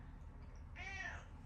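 A house cat lets out a single clear meow partway through, close and moderately loud over a low steady background hum.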